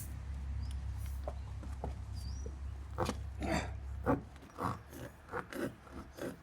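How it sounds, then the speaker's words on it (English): A reamer worked back and forth in a nail hole of a tire to clean it before plugging, heard as a series of quiet, close rasping scrapes that grow more frequent toward the end. "So we're gonna ream that hole out, make sure it's clean."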